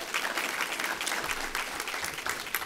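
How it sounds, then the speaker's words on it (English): Sustained applause from a morning conference crowd of developers, a thick, even rattle of many hands clapping at moderate distance throughout. "So give yourselves a round of applause for being here this morning."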